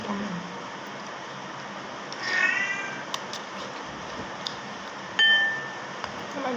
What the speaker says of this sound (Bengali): আমার বিড়াল ডাকতেছে।